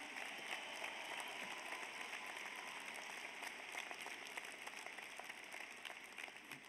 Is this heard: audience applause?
yes